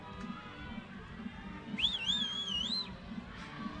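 A single loud, wavering whistle from a nearby crowd at a lead climbing final rises and falls for about a second over a steady crowd murmur, sharp and close by.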